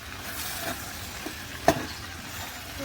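Cabbage fries in a pan for a beef and potato curry, giving a low steady sizzle with a few soft stirring scrapes and one sharper spatula knock, close but quiet, with no voices.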